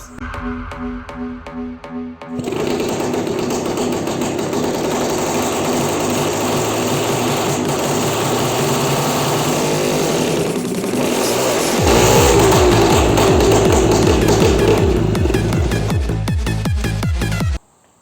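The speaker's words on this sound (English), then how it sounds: "I've been turning the engine a whole bunch." A Belarus MTZ-52 tractor engine, fitted with a new head, is turned over and runs: a steady mechanical churn that steps up louder near the end, then a rhythmic chugging beat before cutting off abruptly.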